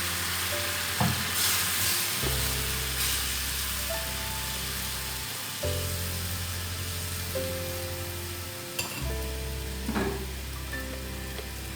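Tamarind water for a ginger-tamarind pickle hitting a hot pan, a loud steady sizzle and bubbling that swells and eases in waves, with a few utensil clinks near the start and around the ten-second mark.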